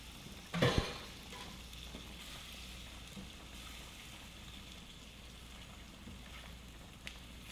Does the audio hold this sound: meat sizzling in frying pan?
yes